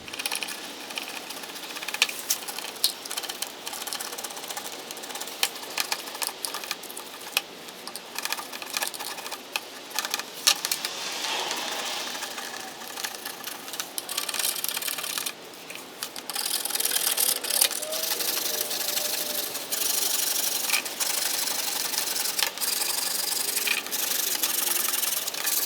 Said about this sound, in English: So I have that old weather stripping pretty well removed.